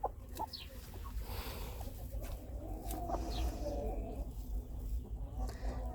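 Cochin hens clucking softly while settling onto eggs, with low murmured clucks and a few sharper calls over steady barn background noise, fairly close.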